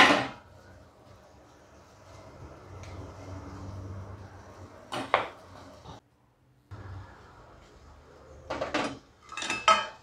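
A steel idli plate is set into a wok in a home kitchen, with sharp metallic clanks and utensil clatter in short bursts separated by quiet stretches.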